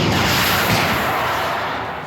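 An RPG rocket launcher fires in a sandbox game mode, a single loud blast that trails off into a long, fading rumble.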